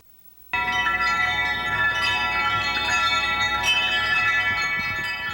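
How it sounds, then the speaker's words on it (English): Handmade wind chimes tinkle in a continuous, ringing shimmer of overlapping metallic tones, starting abruptly after a moment of silence and staying fairly loud and close throughout with no voices. "Morris Stump Holloway of Fruitland makes wind chimes."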